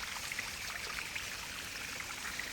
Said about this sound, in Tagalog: Nasa kagubatan tayo may magandang bukal ditong makikita.